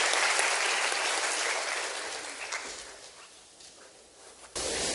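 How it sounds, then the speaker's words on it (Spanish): An audience at an academic talk welcomes a speaker with loud, steady applause, the clapping thinning out toward the end before a sudden fresh burst. "demos la bienvenida a Hugo con un fuerte aplauso"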